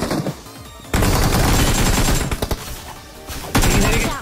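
Loud bursts of automatic gunfire in BGMI, a first-person mobile battle royale game, with rapid rattling volleys that start and stop in several dense runs.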